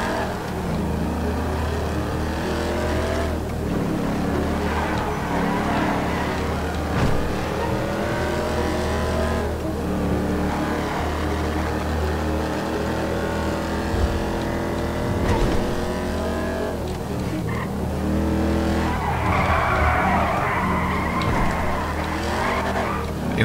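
A car in Grand Theft Auto Online drives hard with a continuous revving engine, shifting pitch as it accelerates, and repeated tire squeals from skidding through turns, loud and close throughout.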